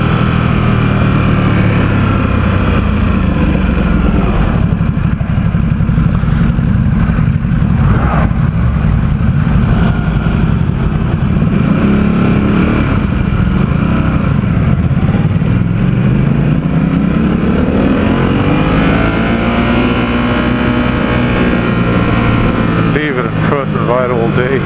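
A 2017 Ducati SuperSport S motorcycle is ridden through San Francisco, its engine droning loud and close with wind rush as the pitch sweeps up and down through the gears, while a rider talks over it.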